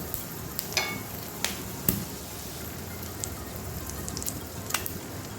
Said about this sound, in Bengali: এই তেলের মধ্যে আমরা দিলাম প্রথমে জিরে, দিলাম 3-4টে তেজপাতা, 2টো শুকনো লঙ্কা